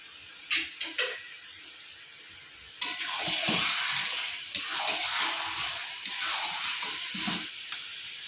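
Rohu fish heads are stirred into taro leaves frying in a pan: a few sharp utensil knocks come first, then loud, close sizzling with repeated scraping stirs, and no one speaks.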